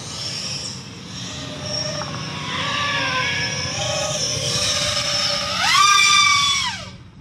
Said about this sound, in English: So let's do a full throttle punch out here so you can hear what it sounds like.